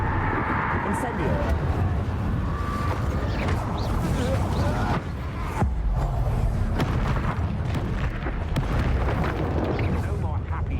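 Incendio fire spell cast in Hogwarts Legacy combat, a continuous roaring whoosh of flame with booming bursts, loud and dense, with a voice talking over it throughout.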